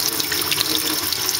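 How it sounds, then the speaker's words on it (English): Hot water runs steadily from a kitchen tap over a cup holding a frozen homemade ice, a continuous close splashing stream with no talk. "And you just run it over hot water."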